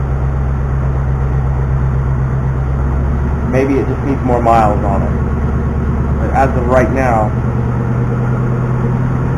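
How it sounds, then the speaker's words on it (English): A new 2019 Ford Mustang GT with freshly changed oil idles steadily, its low, even rumble running beneath someone talking throughout. "the car sounds quieter than it did, an hour ago"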